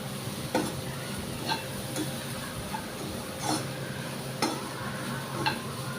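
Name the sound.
grated coconut frying in a pan for carrot palya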